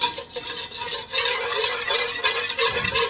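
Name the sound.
whisking flour roux for béchamel sauce in a pan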